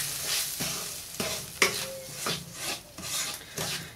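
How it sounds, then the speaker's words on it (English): Semolina being stirred in ghee with nuts for halva, a dry scraping rasp of a spoon on the pan coming in repeated strokes over a soft sizzle, close and alone. "Put Sooji in it and keep stirring"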